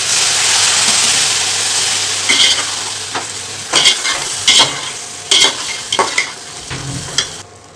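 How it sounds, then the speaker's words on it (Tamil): Narthangai citron pickle being stirred in a hot pan, with a steady oil sizzle and repeated scraping strokes of the spoon against the pan, close and fairly loud. "இப்போ நம்ம ஊறுகாயை சேர்த்துக்கலாம்."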